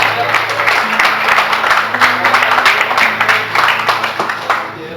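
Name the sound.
congregation applauding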